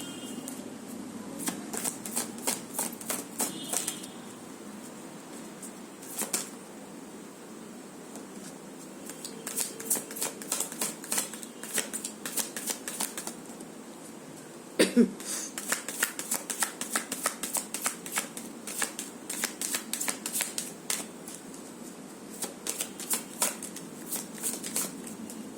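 A deck of cards is shuffled again and again in rapid riffling bursts, close and crisp, separated by short pauses, with no one speaking.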